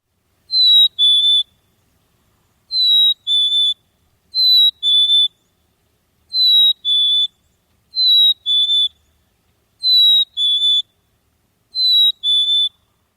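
Black-capped chickadee song, a clear high two-note whistle with the second note lower, repeated seven times at even intervals with silence between, loud and close.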